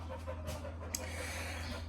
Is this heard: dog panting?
yes